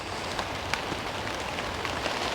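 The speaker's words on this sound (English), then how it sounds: "As always, it's raining." Rain falls on a garden in a steady patter, with scattered nearby drops tapping on surfaces over a constant close wash, and no talking.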